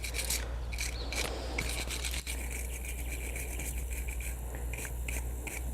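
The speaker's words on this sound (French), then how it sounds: "On brosse avec la brosse métallique." A metal wire brush scrubs a surface in steady, repeated rasping strokes, close and continuous over a constant low mechanical hum, with no voices.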